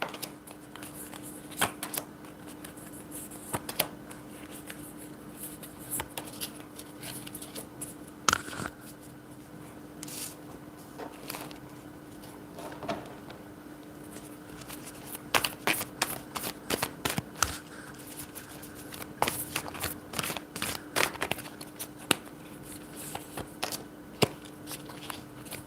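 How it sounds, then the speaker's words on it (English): Tarot cards being shuffled by hand, a long run of crisp riffling and slapping bursts, irregular and close, growing busier toward the end over a faint background hum, with no talking. "I'm going to pull cards for Pentagon."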